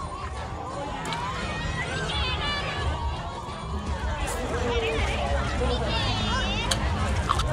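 Crowd of people moving through a street during the Songkran water festival on Khao San Road, a dense continuous hubbub of voices, shouts and footsteps close around, with occasional higher cheers over the steady din.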